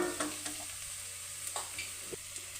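Onions and spices being stirred in a frying pan for a green peas gravy, with a soft steady sizzle and scattered scrapes of a spoon against the pan, fairly quiet and close.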